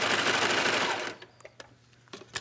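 A sewing machine stitching a dress and easing in the fabric, a dense whirring run for about a second, then stopping, followed by a few faint clicks.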